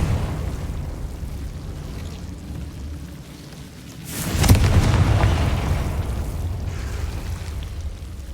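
A Confringo fire-blast spell goes off in the Hogwarts Legacy video game. A single loud, bursting boom lands just past the midpoint and leaves a lingering rumble over steady background game ambience. No one speaks.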